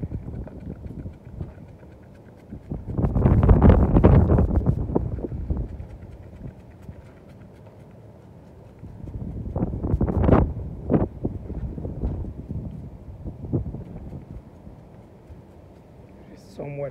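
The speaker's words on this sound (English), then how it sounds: "It's somewhat windy right now" Wind gusting outdoors at a commercial pressure-washing job, rising in two broad rumbling surges against the microphone with quieter lulls between, close and fairly loud.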